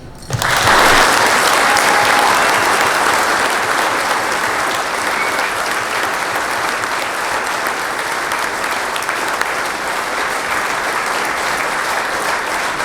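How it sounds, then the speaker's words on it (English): An audience at a hall of fame induction evening breaks into loud, sustained applause in memory of lost members, a dense wash of clapping that starts abruptly and holds steady throughout. "why don't we start tonight by having a great moment of applause for those, including our Pell Guards, that we have lost"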